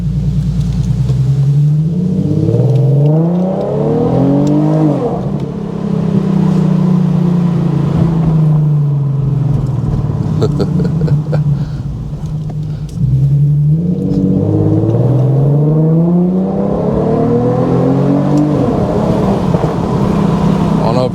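A tuned Infiniti Q50 accelerates while driving, its engine climbing through gears in two loud revving pulls with a steady cruise between, heard from inside the car with some background chatter; distinct exhaust pops are hard to pick out.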